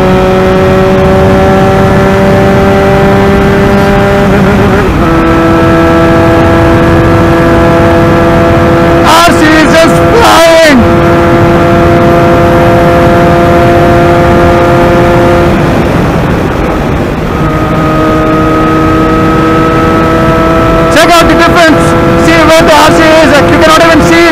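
Benelli 302R motorcycle racing a KTM RC 390, its engine loud and close throughout, pitch climbing hard through each gear, then dropping sharply at shifts around the five- and seventeen-second marks before winding up again.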